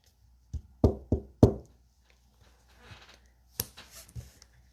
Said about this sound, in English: Alice went timidly up to the door and knocked.